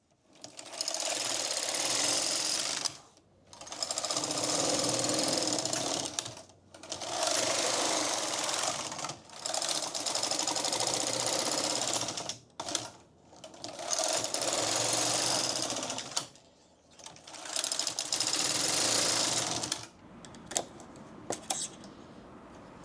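A knitting machine knits ribbing in long mechanical whirring passes of about three seconds each, six runs separated by brief pauses as the carriage is pushed back and forth, loud and close with no talking.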